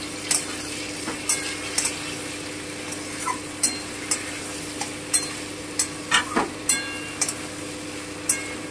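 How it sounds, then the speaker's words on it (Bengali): Sesame and poppy seed paste fries in a pan with a soft, steady sizzle while a spoon stirs and scrapes at regular intervals, producing repeated light clinks against the metal, with no talking. "এবার আমি তিল আর পোস্ত বাটাটা দিয়ে দিচ্ছি। একটুখানি ভেজে নেব।"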